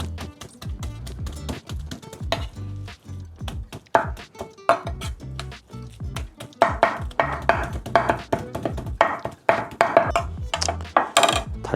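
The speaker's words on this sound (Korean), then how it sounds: "고기는 오늘 앞다리살 다진 육을 준비했고요. 파스 빼고 다지긴 했는데 한 번 더 다져가지고 좀 더 얇게" Knife repeatedly chopping and mincing ground pork foreleg on a cutting board, a fast irregular run of close, sharp thuds and taps with no talking.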